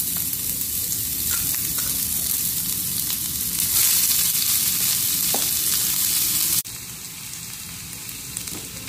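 Chopped onion fries in hot oil in a pan, a steady dense sizzle that holds loud and close throughout, then drops slightly near the end.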